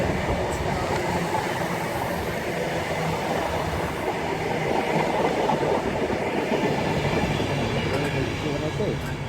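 Greater Anglia train at Colchester on the Great Eastern Main Line, a steady loud rumble with rolling wheel clatter as carriages pass close by, continuous throughout with a faint voice underneath.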